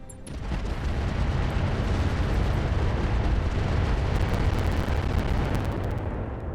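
A 160-missile salvo slams into an Atlas mech in Roguetech, a continuous rumbling barrage of overlapping explosions that builds quickly and stays loud and dense for several seconds.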